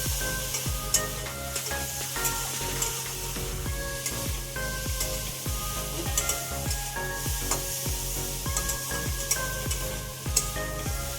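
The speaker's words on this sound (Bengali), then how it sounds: "একটু অল্প তেলেই ভেজে নিচ্ছি" Prawns fry in a small amount of oil, giving a continuous close sizzle and soft spatter throughout, with a tonal, rhythmic background running underneath and no voices.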